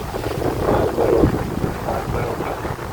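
Strong gusty evening wind at Kodanda Rama Temple rumbling across the microphone, swelling and easing over a few seconds with no talking.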